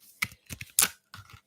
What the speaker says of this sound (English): I'm going to give this a really good shuffle.